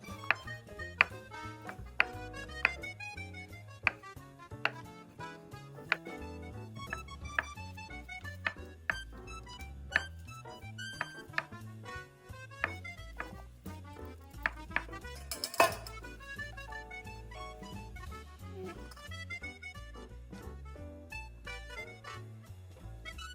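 Rapid, steady knife chops through mushrooms on a cutting board, a long run of crisp taps with a louder clatter near the middle, no talking.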